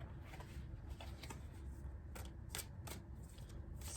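Tarot cards are shuffled and drawn from the deck, a close, quiet riffling with soft papery slaps and flicks in an uneven rhythm, with no voices.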